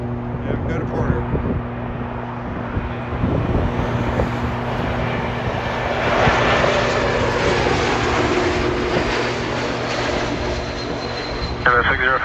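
A Porter Airlines turboprop airplane at Toronto Pearson airport, its engine drone and propeller hum loud and steady throughout, swelling slightly midway, with outdoor wind noise around it.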